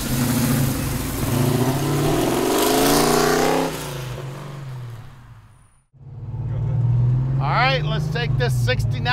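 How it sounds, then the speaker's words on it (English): A 1969 Chevrolet Camaro with a big-block engine rumbles and revs through its tailpipes, a deep close exhaust that swells, drops to near silence briefly, then rises again while people talk over it. "Listen to those tailpipes, man."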